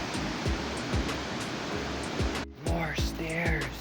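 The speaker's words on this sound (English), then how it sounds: "Hear the waterfall." A waterfall rushes beside a mountain walkway, a broad steady roar filling the whole clip, with footsteps and faint chirps on top.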